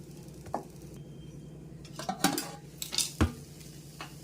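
Moringa leaves are stirred with garlic and chili powder in a pan, with a soft frying hiss underneath and a few sharp scrapes and knocks of the utensil against the pan.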